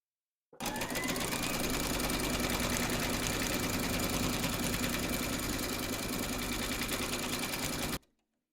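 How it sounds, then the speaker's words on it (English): An embroidery sewing machine stitches a quilt segment held in the hoop, a steady, loud, continuous mechanical whir and rapid needle clatter running for about seven seconds without pause, close up and with no voices. "Pop your hoop into your machine and stitch round number 3, and that's going to secure the fabrics and quilt the segment as well."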